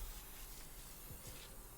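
Cooking spray hisses from a can onto a baking pan in a couple of soft, brief bursts, faint and close in a kitchen with no voices.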